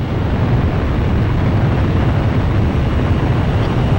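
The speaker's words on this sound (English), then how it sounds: "Pilots, check your plane and prepare for refueling." Steady, loud broadband roar of a military jet engine in flight in Ace Combat Zero, a continuous droning rumble with no break across the whole stretch and no voices.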